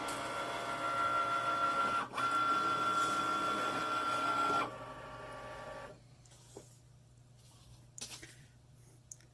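A Cricut cutting machine hums and whirs steadily at close range with a sustained tone for several seconds, briefly pausing, then stops, leaving quieter room sounds and small clicks.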